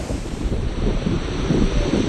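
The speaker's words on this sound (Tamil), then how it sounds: "இன்றைக்கு இந்த கடலை வந்து பார்ப்போம்னா அதாவது கொந்தளிச்சு கொண்டு இருக்குது" Rough sea waves break at a beach in strong wind, a dense, continuous rushing roar with buffeting gusts throughout.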